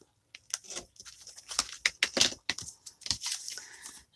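A book page is cut down to make a journal card, giving a quick run of crisp papery snips and rustles, close and quiet, with no voices.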